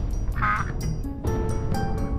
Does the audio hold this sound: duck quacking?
yes